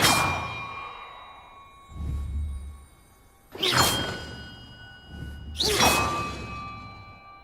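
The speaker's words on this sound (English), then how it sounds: "Perhaps the map contains clues about the order I'm supposed to ring the bells in." Bells struck in Hogwarts Legacy, sounding as three separate bright clanging tones a couple of seconds apart, each with a sharp attack and a long shimmering ring that fades slowly, with a low thud and rumble beneath.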